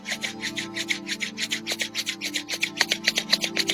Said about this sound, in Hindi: Rub your palms.